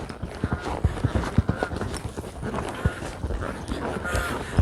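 A horse moving at a quicker pace in an arena, its hoofbeats landing in an irregular clip-clop rhythm at moderate distance, with faint voices and ambient noise underneath.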